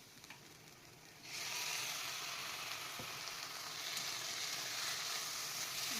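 Prawns and potatoes frying in a pan for a special pulao, starting with a low background and then breaking into a loud, steady, continuous sizzle that carries on without a break, close by and with no voices.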